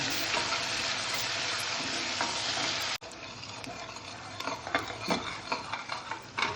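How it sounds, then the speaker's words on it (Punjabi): Masala browns in a pan for mixed vegetables, a dense close sizzle that drops back suddenly halfway, then gives way to a run of clinking, scraping stirs with no speech. "ਇਹਨੂੰ ਚੰਗੀ ਤਰ੍ਹਾਂ ਨਾਲ ਆਪਾਂ ਬਰਾਊਨ ਕਰ ਲੈਣਾ ਮਸਾਲਾ ਵਧੀਆ ਤਿਆਰ ਕਰਨਾ"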